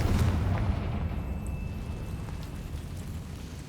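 A blasting spell explodes in Hogwarts Legacy with a deep, rumbling boom that is loudest at the start and slowly decays into a low roar, with a few faint high sparkles over it.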